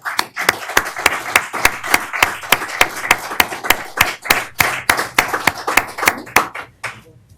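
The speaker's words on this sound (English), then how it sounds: "Now let's applaud our candidates." Audience at a League of Women Voters candidates forum clapping for the candidates, a fairly small group giving sharp, distinct claps in a steady rhythm that stays close and clear for about seven seconds before trailing off.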